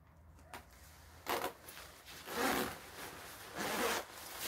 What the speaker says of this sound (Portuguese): Zíper funcionando perfeitamente